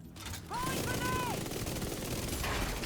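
Gunfire from a sniper turret in a video game, heard as rapid bursts of shots mixed with game effects and a sweeping tonal sound, loud and continuous, with voices talking over it.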